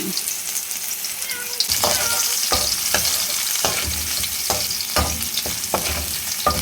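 Lots of garlic frying in a pan for Filipino adobo, a loud bright sizzle throughout, broken by repeated scraping stir strokes at a roughly steady rhythm.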